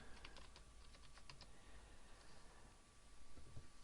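Username and password typed on a computer keyboard, brisk close key clicks clustered early, then a quieter pause and a few more taps, with no talk.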